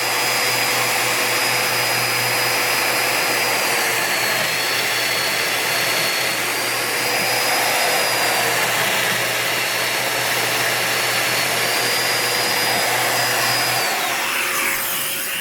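A Festool Domino joiner plunge-cutting a mortise in a dining table apron gives a loud, steady motor whine with airy extraction roar that runs unbroken for most of the span, then cuts off near the end.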